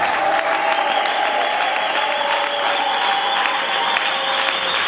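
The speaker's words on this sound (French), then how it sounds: "Encouragez-moi par vos acclamations." Audience applause and cheering fill a church service, a dense, steady wash of clapping with crowd voices lasting throughout at strong, even loudness.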